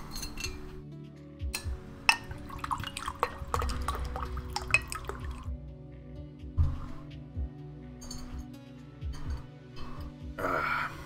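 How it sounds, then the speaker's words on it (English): Water poured into a glass, with drips, clinks of glass and small liquid splashes, close and fairly quiet, spread over about ten seconds with short pauses. "I'm gonna have a real quick glass of water."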